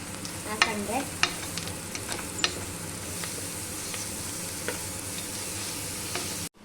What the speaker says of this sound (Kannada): ಇವಾಗ ಹಸಿ ವಾಸನೆ ಹೋಗೋ ತನಕ ಫ್ರೈ ಮಾಡ್ತೀನಿ